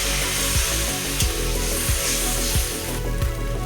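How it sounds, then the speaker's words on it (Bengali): Water poured slowly into spice paste frying for an egg curry gives a steady, loud hiss and sizzle, with repeated low thumps from the pan throughout. "এবার আমরা আস্তে আস্তে জল দিয়ে দেব।"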